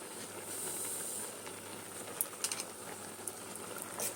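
Water bubbling off spinach in a pot on a stovetop, a steady faint hiss of simmering with a few brief sharper pops and sizzles near the end.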